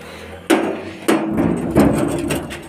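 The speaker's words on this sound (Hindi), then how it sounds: "लेकिन एक कमाड़ पहला मेरे को बंद करना पड़ेगा" A wooden door inside a home is pushed shut in three sharp knocking thuds about half a second apart, close and fairly loud over a low background hum.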